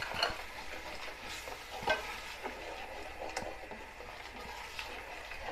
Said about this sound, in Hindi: 2 से 3 मिनट मैंने मसाला फ्राई किया